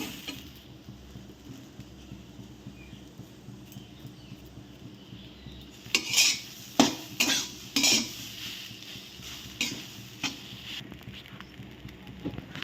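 Semolina upma with vegetables is stirred in a pan over medium heat: after a quiet stretch comes a cluster of scraping, clattering spoon strokes against the pan, then a few softer, scattered scrapes.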